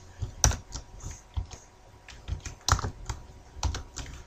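Computer keyboard keys are struck in an irregular pattern while writing password-change code, with scattered close clicks, a few sharper taps and brief pauses between them.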